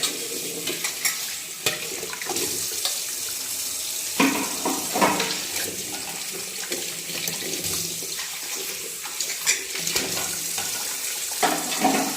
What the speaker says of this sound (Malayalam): ഈ പാത്രം ഇനി അങ്ങ് കഴുകി എടുത്തോണ്ടാ നോക്കാം